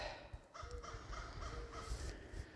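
A bird named Morris squawks outdoors on an early morning walk, several harsh crow-like caws repeating in quick succession at moderate distance over faint background noise.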